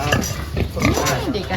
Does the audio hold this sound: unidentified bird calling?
no